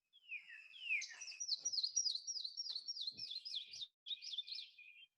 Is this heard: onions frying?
no